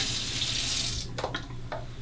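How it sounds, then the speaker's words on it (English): Cold water runs steadily from a tap, wetting a Shave Nation wide stick alum block held under the stream, with brief splashy bursts near the end as the block is turned; no talking. "Remove the cap, get it wet under the cold water."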